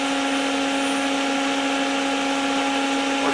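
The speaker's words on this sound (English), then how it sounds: "I'm going to stop the motor." A Yaskawa spindle motor on a drive with shorted transistor power modules gives off a steady, loud electrical hum with a strong tonal whine that holds level throughout, with no audible wind-down.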